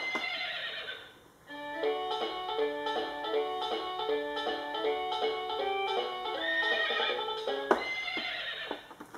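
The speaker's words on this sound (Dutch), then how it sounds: "Oh nee, het is een paardje." A horse whinnies in a long, loud, close neigh with wavering pitch, followed by a few softer snorts and hoof sounds, with no voices over it.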